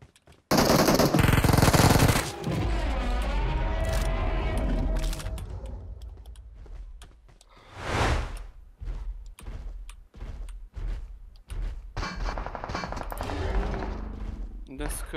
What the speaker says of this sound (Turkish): Ne sıkıyorsun lan?